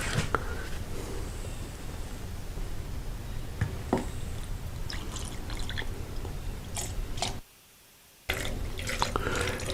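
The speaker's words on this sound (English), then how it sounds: "we're just going to pour it and fill in the bottle" Roasted pumpkin bourbon trickles through a funnel lined with doubled coffee filters into a bottle, a steady soft watery patter with a few sharper drips, broken by a brief silent gap near the end.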